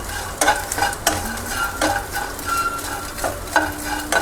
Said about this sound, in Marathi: हे बघा डिंक पण बारीक गॅसवरच भाजायचं